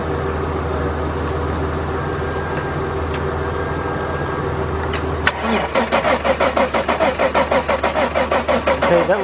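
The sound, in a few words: 1997 Mercedes-Benz E320 engine cranking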